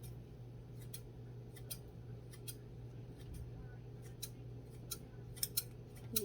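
Scissors snip colored gel wax into little pieces for a candle, with a series of sharp, crisp cuts at an uneven rhythm over a low steady hum, growing quicker toward the end.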